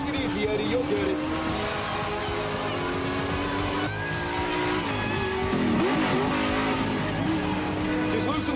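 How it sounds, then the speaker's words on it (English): A race car roars at full throttle down a straightaway, a loud continuous engine howl with a brief tire squeal, heard under dramatic music and talk. "Drop the hammer on the straightaway, Thomas."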